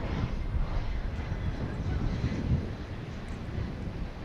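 An airplane taxis at DFW Airport at night, a broad steady jet engine roar and rush heard from a distance, with wind noise over the microphone.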